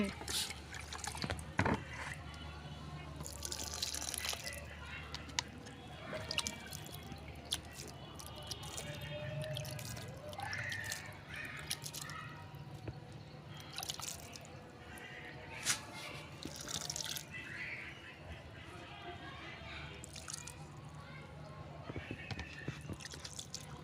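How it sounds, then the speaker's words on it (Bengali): Water is poured slowly onto the soil of newly planted sweet potato and bitter gourd seedlings, making quiet trickles and scattered drips, with a person talking over it. "এখন আমি একটু পানি দিয়ে দেবো পানিটা নিয়ে"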